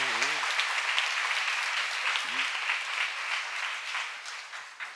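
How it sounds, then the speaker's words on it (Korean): Church congregation at a seminar clapping hard, a broad sustained roar of many hands, loud and even, with a brief voice cutting through near the start. "박수 세게 쳐봐. 그 소리 들어야 된다고."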